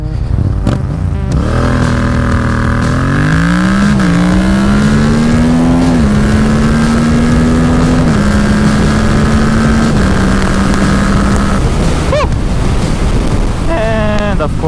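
A Yamaha MT-07 motorcycle launches hard and accelerates, its engine note rising through several gear changes under heavy wind roar, then revving up again near the end.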